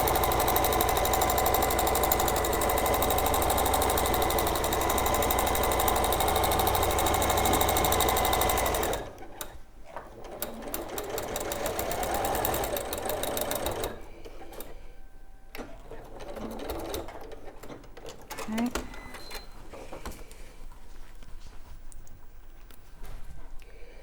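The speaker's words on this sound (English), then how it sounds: "So again, you want to do a couple of back stitches just to secure it." Sewing machine stitching fabric with back stitches: a loud, steady rapid whirring run of stitching for several seconds, then quieter stop-start bursts of stitching with clicks and handling noise, close by.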